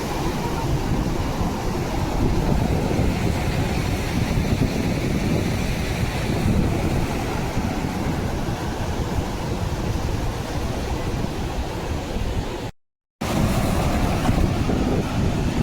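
Ocean waves surge onto a Konkan beach in a loud, continuous roar of surf mixed with wind buffeting the microphone, steady throughout apart from one brief dropout near the end.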